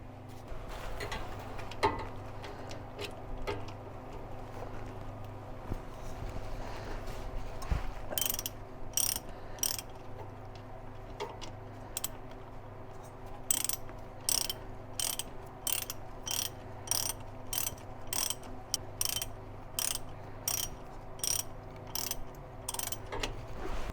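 A ratchet tightens bolts on the starter motor of a C3 Corvette with a Chevrolet engine. The pawl clicks in quick regular bursts through the second half, close up, over a steady low hum of background noise, with no talking.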